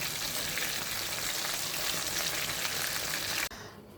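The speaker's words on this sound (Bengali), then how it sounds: "ফ্রাই হয়ে যাচ্ছে ভাজা" Loud, steady sizzling of chicken frying in a pan, a dense crackling hiss that cuts off abruptly near the end.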